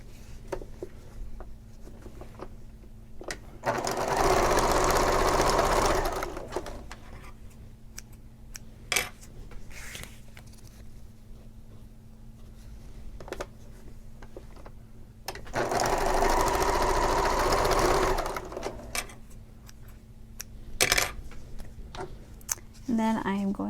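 A sewing machine stitching together the short ends of bag lining pieces for a shoulder bag, two loud bursts of rapid whirring stitching separated by quieter stretches of handling and faint clicks.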